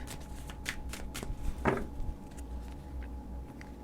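Deck of new, not very glossy oracle cards being shuffled by hand nearby, a series of quick papery riffles and flicks with one louder slap partway through.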